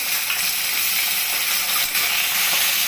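Sweet potato, potato, carrot and green chilies sizzle loudly in plenty of hot oil with cumin seeds in a pan, a steady, close, bright hiss with no one speaking.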